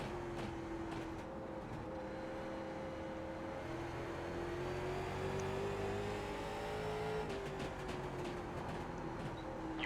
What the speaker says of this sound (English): Just trying to work the throttle to help the car rotate through the corner.